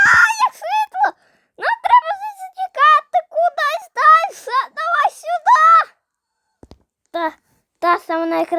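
Screams and wails come from a horror video game, high strained cries repeating in bursts over several seconds, close and loud, with gaps of silence between them.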